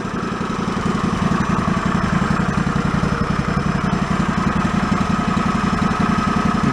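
A John Deere yard tractor's small engine runs steadily on its fuel pump while being checked for flooding, a close, even chugging idle with a rhythmic clatter throughout and no voices.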